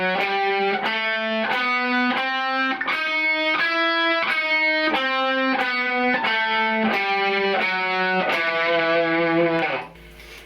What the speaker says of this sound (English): So that whole melodic minor scale in 1 octave sounds like this.